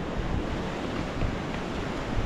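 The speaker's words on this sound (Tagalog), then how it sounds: "tingnan nyo anong alon" Ocean surf breaking near a sea cave on the Aurora coast, a continuous deep roar of churning waves with wind buffeting the microphone, no voices.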